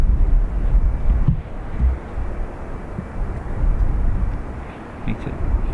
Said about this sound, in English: Next we have up an Enter Air Boeing 737 with no destination.